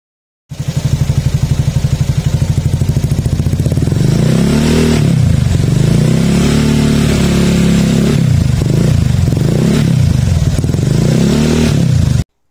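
A motorcycle with a loud custom racing exhaust, a Honda Beat Eco fitted with a Vario exhaust, idles roughly, then revs up and down in repeated throttle blips, close and steady, with no talking.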